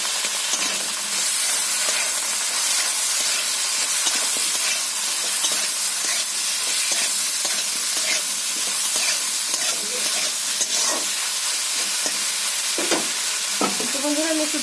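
Potato, kohlrabi and eggplant frying together in oil with turmeric, a loud continuous close sizzle with stirring scrapes and clatter throughout and no talk.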